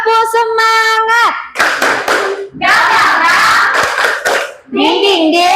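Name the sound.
class doing rhythmic spirit clap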